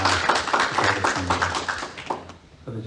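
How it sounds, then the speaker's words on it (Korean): A church congregation claps together during a worship service, a dense burst of applause for about two seconds, blended with voices and low background music before it fades out. "그렇게 하겠습니다 라는 마음으로 박수 한번 칩시다"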